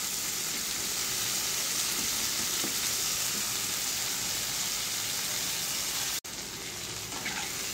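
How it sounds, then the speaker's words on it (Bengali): Prawns fry in hot oil in a pan, a loud, steady, dense sizzle and crackle throughout, broken briefly by one sharp click near the end. "মাছটাকে একটু ভেজে নিতে হবে ভালো করে"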